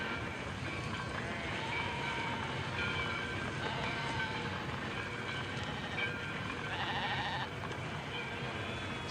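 Sheep bleating in a flock herded toward a slaughterhouse, repeated faint cries over a continuous rumbling clatter like a train, with no speech.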